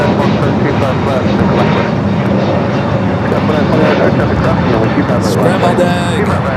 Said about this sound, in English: the Lufthansa Dreamliner heading up to the north side